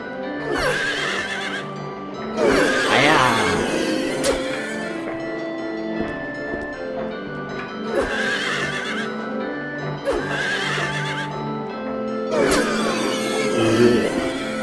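In the video game Silent Hill 3, a horse neighs and whinnies again and again in bursts that repeat every couple of seconds. The bursts sit over layered, droning, mechanical game ambience.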